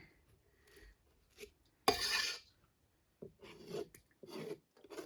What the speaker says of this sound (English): is to just scrape this goopy stuff off.